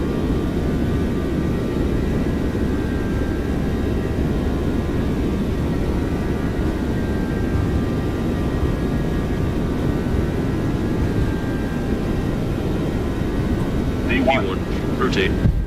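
A Boeing 737-900ER in the X-Plane 12 flight simulator spools its jet engines to takeoff thrust, a loud, steady, unbroken roar throughout.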